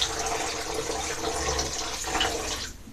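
Water sloshes and splashes continuously as a curly wig is dipped and rolled in a basin of sudsy water, a close, steady wash that stops abruptly at the end.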